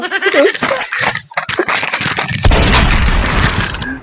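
A gunshot goes off in a Maithili-language comedy skit: a loud, sustained booming burst breaks in midway and fills the rest of the clip, following a stretch of voices and scattered sounds.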